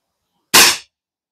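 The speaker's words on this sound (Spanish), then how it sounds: "vamos a tirar dos más, así hemos hecho cinco tiros" A single sharp, loud crack from a Gamo Hunter 440 4.5mm spring air rifle, left unused for 20 years, cuts through silence and decays within a fraction of a second.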